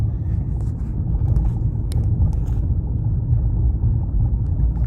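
A BMW 530i E60 with the M54B30 straight-six, lugging along in sixth gear at low revs: a steady, heavy low rumble from inside the car with faint ticks and rattles, no talk.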